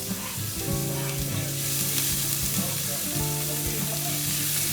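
Chopped white onions and green onions frying in hot oil for arroz blanco, a dense, steady, close sizzle that holds evenly throughout with faint stirring beneath, no voices.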